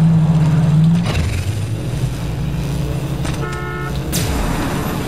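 A car horn blares once in the video game Borderlands 3, followed by a steady engine drone that rumbles on with a few metallic mechanical clicks and whines near the end.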